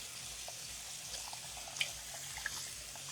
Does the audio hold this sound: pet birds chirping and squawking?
no